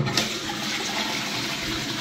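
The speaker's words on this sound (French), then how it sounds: "Donc là, on appuie le bouton, petit chasse d'eau" A SIAMP wall-hung toilet releases its small flush, a steady close rush of water that holds at an even level throughout with no voices.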